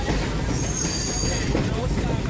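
The Colebrookdale Railroad train rolling along the tracks, a loud continuous rumble of wheels and rails with a high metallic squeal running through it, heard from on board.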